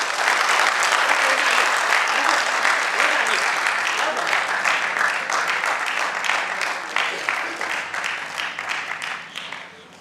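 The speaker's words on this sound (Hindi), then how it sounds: "जोरदार तालियां हो जाती।" Loud, sustained applause from a seated audience at a stage event, dense clapping that fills the whole stretch and slowly thins and fades toward the end.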